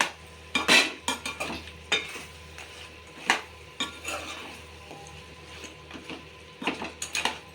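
A spoon stirring goat head curry with tomatoes in a metal pan, giving scraping and clinking strokes at an uneven rhythm over a faint sizzle, close and fairly clear with no talk.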